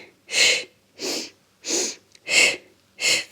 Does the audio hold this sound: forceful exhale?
yes